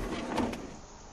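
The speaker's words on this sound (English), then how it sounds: "A desk drawer." A desk drawer sliding open in a point-and-click adventure game, a single short scraping slide followed by a soft settling knock, close and fairly quiet with no talk over it.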